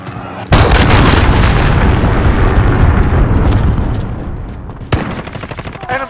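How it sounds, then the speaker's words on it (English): Cruise missile strikes in Call of Duty: Modern Warfare land as a huge sudden boom that rolls into several seconds of dense rumbling roar, then a second sharp blast near the end, loud and close. "Enemy cruise missile incoming."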